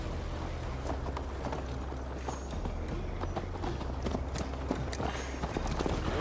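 Horse hooves clip-clopping in a steady rhythm as a rider travels in Assassin's Creed Valhalla, moderately loud over a low ambient background, with no talking.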